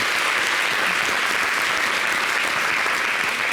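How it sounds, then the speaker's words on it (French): Audience applause at a talk show, a steady dense clapping that fills the whole stretch, close and loud with no voices over it. "On s'acclame quand même."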